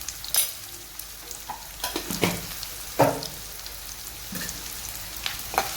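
Green chillies, onions and turmeric fry in oil for chicken curry with a soft, continuous sizzle, broken by several louder crackles and stirring scrapes.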